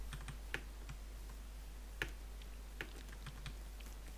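Scattered, faint clicks of a computer keyboard tapped during video game play, sparse light keystrokes over a steady low hum.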